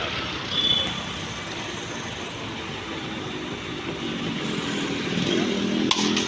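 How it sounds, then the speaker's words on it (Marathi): A pilgrim bus bound for Akkalkot idles and starts up, a steady low engine rumble that grows slightly toward the end, with a sharp click near the close and no voices. "आणि आता आमची गाडी चालू होईल."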